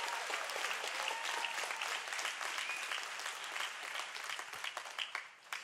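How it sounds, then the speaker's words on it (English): A church audience gives soft, scattered golf claps, a light patter of many hands that holds steady for several seconds, with no speaking over it. "It's four little golf claps for the Word of God."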